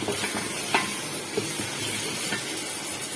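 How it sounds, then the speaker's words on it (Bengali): Meat and cumin with ginger-garlic paste frying in a pan, a dense continuous sizzle with a few faint stirring clinks, steady and close with no voices. "মাংস আর জিরাটা আমি ভালো করে ভেজে নেবো"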